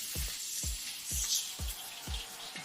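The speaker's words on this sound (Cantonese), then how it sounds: "將薑片爆一爆佢啦" Ginger slices stir-fried in a hot wok give off an even sizzle, broken by about five dull knocks of the spatula against the pan in a steady rhythm.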